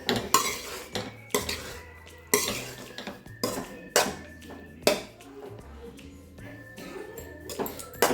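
Cooked rice for a peas and carrot chitranna being tipped into a cooking pan and stirred, giving repeated clanks and scrapes of a spoon against metal in uneven bursts, with no talking.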